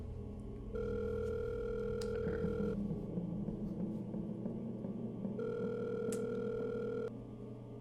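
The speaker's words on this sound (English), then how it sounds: "Let me actually call him up right now." A telephone speed-dial call to a friend produces two long, steady ringback tones separated by a pause, heard clearly and alone over a low hum.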